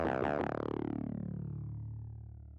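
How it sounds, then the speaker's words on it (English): Talking bass synth built from layered saw waves through a moving filter, playing a few quick vowel-like notes that then sustain and slowly decay, loud and close with no voices. "So this one, I like to call it talking bass because it talks a little"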